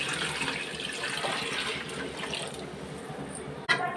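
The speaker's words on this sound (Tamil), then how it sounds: "இப்போ நம்ம தண்ணி ஆட் பண்ணிக்கலாம்" Water pours steadily into a pot of chicken dum biryani made with basmati rice in a home kitchen, a continuous splashing rush that stays even throughout before a brief clunk near the end.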